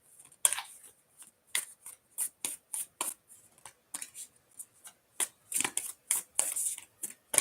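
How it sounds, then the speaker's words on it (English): Oracle and tarot cards are shuffled by hand in a quiet room, giving soft, crisp riffling bursts that come in an uneven run, close and fairly faint, with no talking. "We'll give it 3 shuffles."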